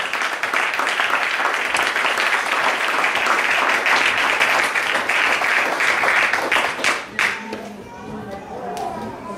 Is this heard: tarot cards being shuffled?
no